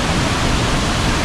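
Water rushes steadily at Khorninko Dam in the Konkan region, a dense, even roar of flowing water that stays close and constant throughout, with no voices.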